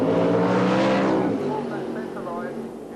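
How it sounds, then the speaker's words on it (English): Ford Anglia drag racing cars at a Supergas event at Santa Pod building revs on the start line and launching together, a loud sustained engine roar that sweeps and fades slightly as they pull away. "They're both in stage, building the revs up, away together"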